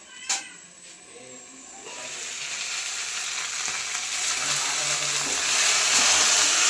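Potato pieces frying in a pan, a steady broadband sizzle that swells and thickens after the first couple of seconds, with a brief clink near the start and no talking.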